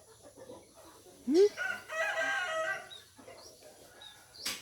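Chickens cluck and a rooster crows close by in an outdoor Thai yard, the crow a loud rising call followed by a stretch of busy clucking and scattered bird chirps under soft background noise.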